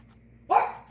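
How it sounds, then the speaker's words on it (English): A single close, loud dog bark, short and sharp, with no talk around it. "like when my dog's barking"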